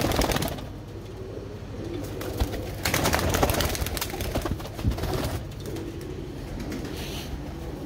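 A purebred pigeon with red eyes coos amid a busy, noisy loft, with other birds calling and occasional wing flutters, no talk.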